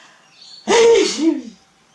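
A single sharp, breathy sneeze bursts out loudly and close, then trails off into a short voiced exhale.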